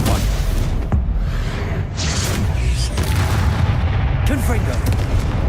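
A Stupefy stunning spell striking a target in Hogwarts Legacy, heard as several loud booming impacts and whooshes in a dense, continuous stretch of spell-combat noise, with voice calls mixed in.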